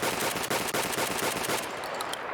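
Rapid automatic gunfire from the Escape From Tarkov video game, a loud, fast continuous burst of shots that stops abruptly near the end, leaving a brief ringing tail.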